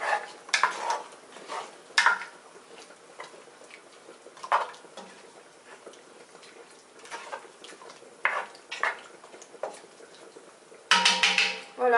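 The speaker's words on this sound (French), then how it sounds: "Voilà, je vais remuer comme ça." Vegetables simmer in a pot for couscous royal while a spoon stirs them, giving scattered clinks and scrapes against the pot over a quiet background, with a denser clatter near the end.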